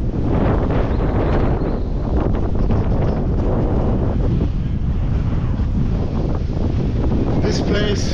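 Strong wind buffets the microphone outdoors on a city boulevard, a loud, continuous rumbling roar that fills the whole stretch with no letup.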